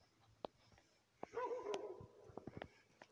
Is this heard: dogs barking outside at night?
yes